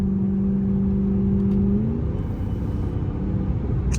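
A Dodge Hellcat with its stock intake hums with a low, steady engine drone, and a pitch shifts briefly as the revs change. No one speaks.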